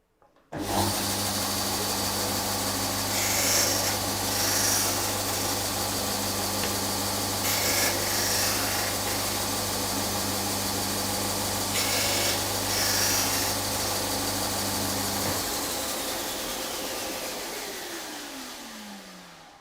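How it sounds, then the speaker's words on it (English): A woodworking sander works a wooden tray in a workshop with a loud, steady whirring hum and a gritty rubbing on top. The motor then spins down and fades toward the end. No talking. "And then onto my sander"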